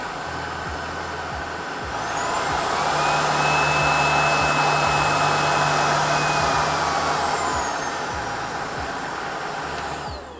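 Tineco Pure One S12 Pro cordless stick vacuum running steadily and close, a loud whirring motor with a high whine that climbs in power partway through, then eases back toward the end.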